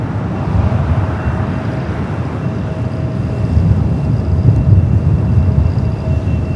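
Airliner taking off from runway 24 left at Los Angeles International Airport, a loud, continuous broadband jet roar that swells slightly midway and carries a faint tonal whine.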